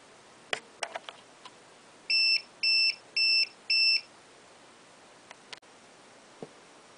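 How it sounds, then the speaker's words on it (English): An APC UPS battery backup buzzer sounds four evenly spaced, loud electronic beeps in a row, set against a quiet room with a few faint clicks before and after. "you'll never have to listen to those beep, beep, beeps again"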